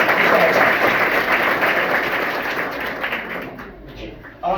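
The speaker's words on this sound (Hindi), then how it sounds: "तो एक बार मैं चाहूंगा उनके लिए भी जोरदार ताली" An audience at a Hindi-language talk on science, knowledge and the constitution breaks into loud applause, a dense clapping wash that gradually fades out, with a sharp knock near the very end.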